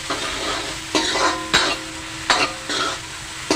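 Onion fried until golden-red in a pan for spicy Maharashtrian misal, a steady sizzle broken by four sharp spoon scrapes and knocks against the pan, close and clear.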